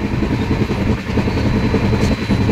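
The 12042 NJP–Howrah Shatabdi Express runs on the rails with a loud, steady rumble and rhythmic clatter, heard close from on board with no talk.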